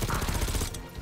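Rapid bursts of gunfire in Call of Duty: Black Ops 6 crackle loudly for most of the second, dense and continuous, then drop off abruptly near the end.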